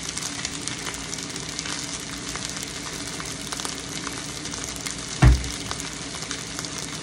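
Garlic fried rice (sinangag) sizzles steadily in a pan with garlic powder added, a continuous frying hiss broken by one short thump partway through; no one speaks.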